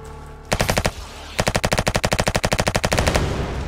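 Automatic gunfire in a Nazi zombies video game, a short rapid burst followed by a pause and then a longer steady burst of loud, close shots with no talk over it.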